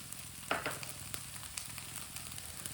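Jaggery drops into ginger cooking in a pan. A soft sizzle and frying crackle run throughout, with a brief brighter burst of spattering early on before it settles back to a steady low fry.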